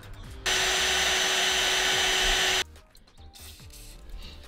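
A power drill with good-quality bits bores a hole, likely into metal with cutting oil, during a car axle and differential build; one loud, steady whine runs about two seconds, then stops, leaving quiet shop handling noise.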